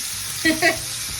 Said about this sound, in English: So I am just gonna cook my shrimp for about 2 to 3 minutes